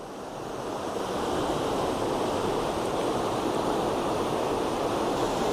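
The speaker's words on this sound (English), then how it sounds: "Again, the falls are right there." A steady, loud roar of rushing floodwater over falls on the Tobacco River near the Edenville Dam, broad and constant, with no voices.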